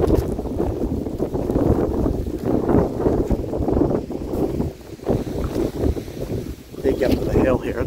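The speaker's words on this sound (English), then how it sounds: "As you can hear the wind, it's pretty blustery." Blustery wind gusts buffeting the microphone outdoors at a cemetery with statues and benches, a continuous loud rumbling roar that swells and dips over several seconds.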